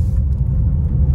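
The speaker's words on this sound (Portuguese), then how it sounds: "O Juninho vai andar na estrada de terra com ela e ele vai dar um feedback pra vocês" A Renault Oroch Outsider pickup drives along a dirt road, giving a steady, close low rumble of engine and tires with no voices.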